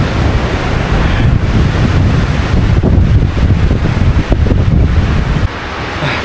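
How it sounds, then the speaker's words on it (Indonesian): Strong mountain wind on Mount Wilis buffets the microphone in loud, continuous roaring gusts with no letup, briefly easing near the end. "Tapi di sini kok anginnya kenceng banget."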